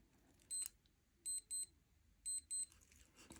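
Three sets of high electronic beeps from an AMST Mountain Steel digital watch alarm, each set a pair of short tones, quiet and close in an otherwise still room.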